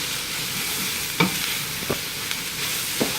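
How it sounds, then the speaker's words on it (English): Cabbage cooking down in a pan for golden borscht, a soft steady sizzle with a few scattered taps and scrapes of a utensil stirring. "And I'll go in with the cabbage."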